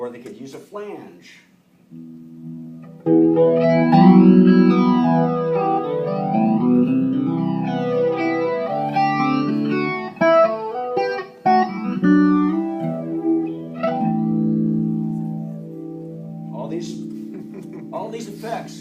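An electric guitar with a flanger effect rings out in sustained chords whose tone sweeps up and down in repeated whooshing waves, fairly loud and alone.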